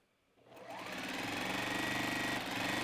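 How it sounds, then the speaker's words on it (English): A sewing machine starts up from quiet and runs in a fast, steady mechanical chatter, stitching a fabric lining for a scrap-fabric Easter basket, close and continuous with no talk. "I'm sewing my lining together"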